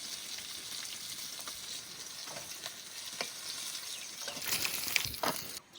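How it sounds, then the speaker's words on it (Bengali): Fresh river fish fry in hot oil with a soft, steady sizzle and occasional stirring, swelling into louder crackling spatters near the end; no voices. "সব মাছগুলো একসঙ্গে ভেজে নেবো"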